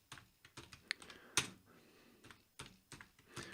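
Object Pascal code is typed on a computer keyboard in Lazarus: quiet, irregular keystroke clicks in short bursts with a few sharper taps, close by and without speech.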